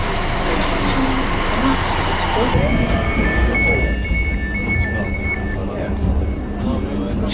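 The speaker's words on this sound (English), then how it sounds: "time to hop on the train" Inside a moving train, a constant rumble and rattle of the carriage over the rails, with a brief high tone partway through and people talking over the noise.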